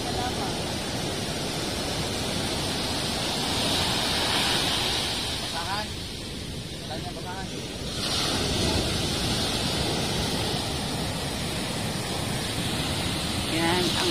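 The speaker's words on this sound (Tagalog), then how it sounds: "Yan ang alon na yun." Ocean waves wash and rush around a fishing boat at sea after a storm, a steady loud roar mixed with wind buffeting, while people talk faintly over it.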